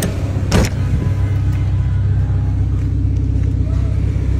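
A manual-transmission car's engine runs at a steady low idle, close and continuous, with a brief mechanical whir early on.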